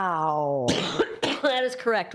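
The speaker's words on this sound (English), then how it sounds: "I keep coughing." A person on a live studio broadcast coughs sharply once or twice at close range, the harsh bursts falling among their own spoken words.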